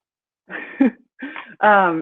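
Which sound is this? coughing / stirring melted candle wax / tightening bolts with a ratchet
coughing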